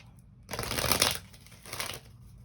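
Tarot cards are shuffled in two quick, soft bursts of riffling, faint and close, with a short pause between them.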